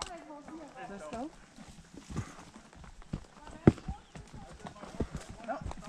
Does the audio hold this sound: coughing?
no